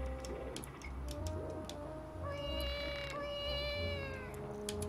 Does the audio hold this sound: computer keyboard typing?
no